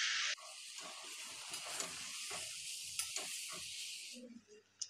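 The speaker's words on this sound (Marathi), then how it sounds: "आपल्या आवश्यकतेनुसार गॅस कमी जास्त करायचा आणि मस्त अशी फ्राय करून घ्यायची" Ambadi (sorrel) leaf bhaji frying in a pan gives a steady, close, bright sizzle that runs almost unbroken, with soft stirring knocks scattered through it.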